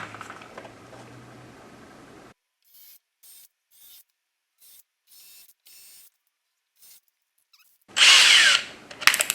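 A power drill driving screws, a series of short whirring bursts separated by pauses, followed by one longer loud run near the end, close to the microphone, no talking.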